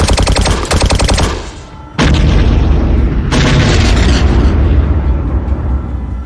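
Rapid machine-gun bursts tear through a Star Wars battle, followed by two heavy, booming explosions that roll out into a loud, rumbling wash of debris and sustained blast noise.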